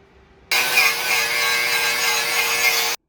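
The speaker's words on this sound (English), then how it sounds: "use a wire wheel or an abrasive pad like we use here to get your top and bottom side clean" An abrasive pad scrubs rust off a truck body mount on a 2001-2014 GM Duramax 6.6L, starting abruptly after a short quiet moment as a loud, continuous, close rasping rub that stops suddenly near the end.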